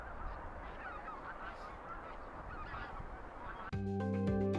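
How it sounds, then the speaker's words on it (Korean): Wild geese at Cheonsu Bay in Korea, on farmland near the former tidal flats, honk in a loose chorus at moderate distance, with an outdoor wash and a sudden musical tone entering near the end. "지금 보는 기러기와 흰뺨 검둥오리 같은 것이 바로 그 주인공"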